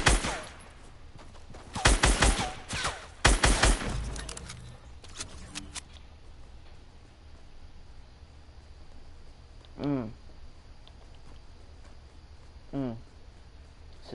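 Bursts of assault rifle fire from a shooter video game ring out loudly in a few rapid clusters near the start, then fade to quieter game ambience with a couple of sweeping tonal effects.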